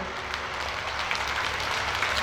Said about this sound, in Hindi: खूब ताली बजा रहे हो